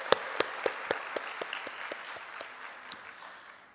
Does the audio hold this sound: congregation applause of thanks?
yes